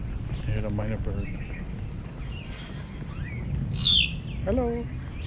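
A myna bird at a zoo gives a brief bright call mid-clip, near and fairly loud, set among people talking and other short chirps nearby.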